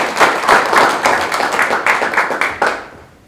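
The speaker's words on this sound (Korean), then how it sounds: "박수 부탁드리겠습니다." A meeting audience claps to welcome lawmaker Seo Dong-yong at a forum on the Yeosu-Suncheon special act, a loud, close burst of rhythmic applause that swells in waves and cuts off near the end.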